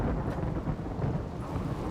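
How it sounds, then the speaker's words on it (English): A rainy thunderstorm in the colony game RimWorld: a dense, steady roar of rain with low rumbling thunder underneath, continuous and even throughout. "Rainy thunderstorm, that's fine."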